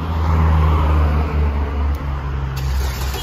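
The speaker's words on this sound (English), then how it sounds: "Damn, this traffic is loud." Loud street traffic on a road in Ecuador, with a continuous roar of nearby car engines and steady low rumbling hum, constant and close throughout.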